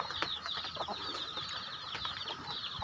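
Chicks peeping and cheeping in a dug-earth pen during feeding on a drizzly day, a continuous chorus of high chirps with soft scratching and fluttering close by.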